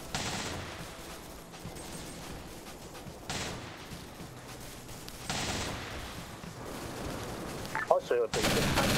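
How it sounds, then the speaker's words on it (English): Bursts of automatic gunfire aimed at infantry in the Vietnam SOG video game, crackling volleys rising and falling over several seconds, with a sharper, louder burst near the end. "Oh, they're shooting at infantry."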